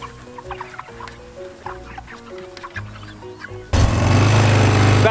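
Meat chickens on a farm cluck in a loose, close flock of short calls, then a loud engine-like roar from a quad bike suddenly starts and drowns them out.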